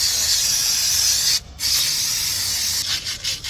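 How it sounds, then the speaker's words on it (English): Aerosol spray of red caliper paint hisses steadily onto the brake calipers of a B3 Volkswagen Passat, one long close burst with a brief break and short stutters near the end. "I'm going to be painting the calipers on my B3 Passat with this red caliper paint"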